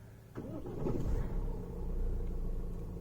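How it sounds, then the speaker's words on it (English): A Tata Harrier manual SUV engine cranks and catches, a brief whirring start followed by a low rumble that settles into a quiet, steady idle. "first I would like to turn on the engine of this car."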